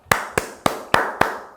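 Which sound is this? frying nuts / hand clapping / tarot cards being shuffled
hand clapping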